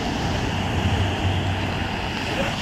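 Sea waves rolling in at high tide on Inani beach in heavy rain, a steady, dense roar of surf and rainfall mixed with wind rumble, close and unbroken throughout.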